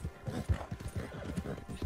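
Horse hooves clip-clop in a quick, steady rhythm in Red Dead Redemption 2, fairly faint and close, with no talking over them.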